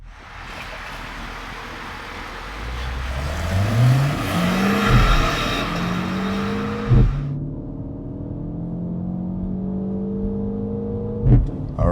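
A 2025 MINI Cooper JCW (F66) launching in a 0-60 mph run, its engine note climbing hard through several rising pitch sweeps with brief dips at the gear changes, close and loud, then easing to a quieter steady cruise.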